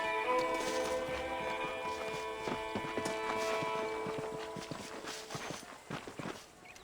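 Horse hooves clip-clop at a walking pace in the Western video game Red Dead Redemption, a steady rhythm of light, moderately close hoofbeats over a faint ambient background.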